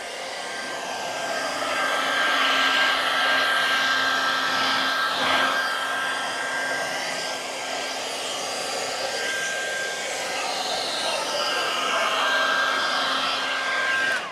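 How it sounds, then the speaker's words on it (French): A hair dryer runs continuously and close, a steady loud whooshing whine used to heat carbon wrap adhesive on Tesla Model 3 interior trim, with no speech. "le traditionnel chauffage par le sèche-cheveux"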